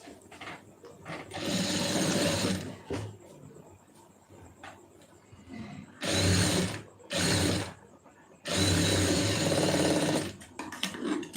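A sewing machine stitches a lining blouse in several loud bursts of rapid mechanical whirring, with quieter gaps of fabric handling between runs.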